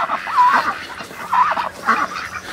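Laying hens cluck and murmur nearby in their run in short, repeated bursts, a few overlapping calls rising and falling with no talking.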